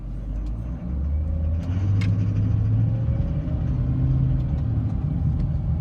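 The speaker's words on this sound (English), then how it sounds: "Yeah, the engine is rattling." A 2014 Dodge Charger PPV police-package car with a suspected bad motor or transmission mount runs with a loud, steady low engine drone that rises slightly, heard close up with faint rattling ticks over the rumble.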